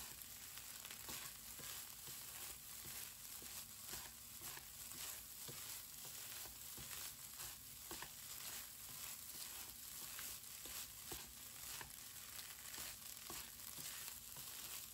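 Rice with carrots and peas stir-fried over high heat for shrimp Cantonese rice, a steady loud sizzle broken by frequent scraping stirs of a utensil through the pan.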